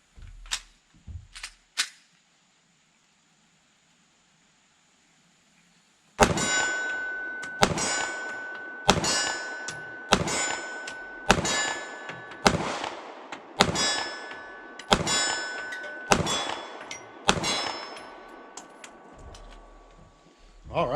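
Taurus G3C 9mm pistol fires about ten shots at a slow, even pace at a 25-yard steel plate, each loud crack followed by a ringing metallic clang, after a short quiet pause with brief noises at the start.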